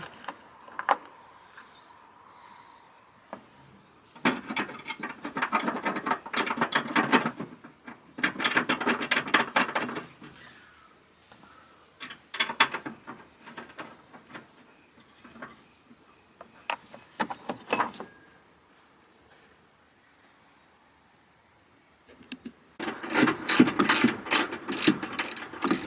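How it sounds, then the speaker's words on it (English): A hand ratchet tightens a bolt on a toilet-paper bypass oil filter mount on a Chevy 2500 350, in several bursts of rapid, close clicking separated by brief pauses, with no talking. "Doing it with a ratchet, that way I don't accidentally strip out my sheet mount here."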